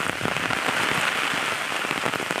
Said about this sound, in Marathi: बघा कसा मुसळधार पाऊस